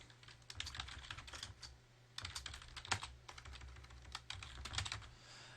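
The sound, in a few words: typing on a computer keyboard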